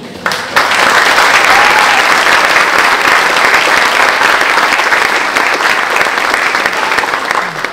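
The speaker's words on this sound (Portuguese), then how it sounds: "Uma salva de palmas para a mãe." A crowd claps loudly and steadily at an anniversary concert, sustained applause starting abruptly after a brief moment and continuing evenly to the end.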